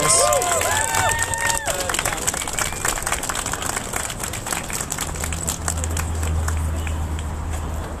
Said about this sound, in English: I think we should have a round of applause for our main speaker, Phelan